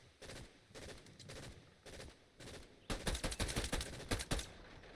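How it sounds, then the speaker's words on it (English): Fortnite gunfire, including a Striker pump shotgun, comes as repeated blasts. Softer shots are spaced through the first half, then a louder, rapid volley of close, punchy bursts follows. "another striker pump shot"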